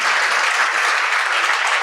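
Audience applause in a hall, a dense steady patter of many hands clapping close by for about two seconds with no voices over it.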